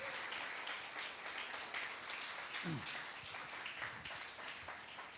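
A church congregation claps, a faint, diffuse patter of applause spread across the room, mixed with scattered voices.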